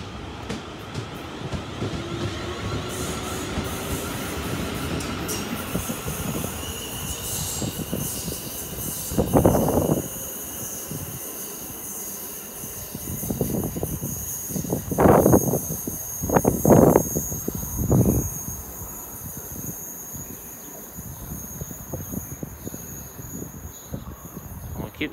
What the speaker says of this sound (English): It's South Western Railway service to London Waterloo is now leaving.